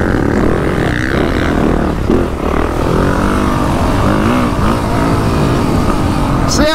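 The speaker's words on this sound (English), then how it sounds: "there's a little hole shot on the YZ450" A 2024 Yamaha YZ450F dirt bike at a motocross demo day roars hard off a hole shot, its engine note loud, close and sustained, rising and sweeping in pitch as it revs through the start.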